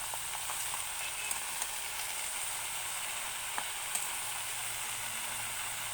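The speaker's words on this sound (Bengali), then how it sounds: "চাপাটা খুলব খুলে একটু নেড়ে নেব" Spinach sizzles in a covered-then-opened pan, a steady bright frying hiss throughout with a few faint scraping stirs, close and continuous with no talk.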